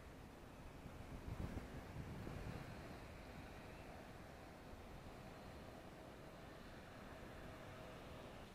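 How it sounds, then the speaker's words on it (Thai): Steady wind gusting across the rooftop of a 33rd-floor condo building, a broad continuous rush with a stronger buffeting swell early on before settling into a constant roar, no voices. "มีลมหน่อย"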